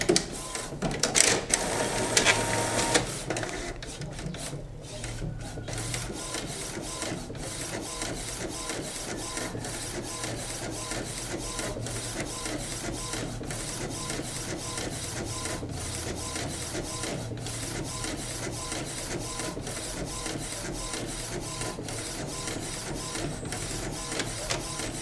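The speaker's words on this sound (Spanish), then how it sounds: "vamos a ver cómo debería de imprimir mucho mejor en esta ocasión" HP 7110 inkjet printer printing a test page after a print-head cleaning: a steady, continuous mechanical whir with rhythmic scraping and shuttling of the print carriage, close and moderately loud, running alone for about twenty-five seconds after a brief louder start.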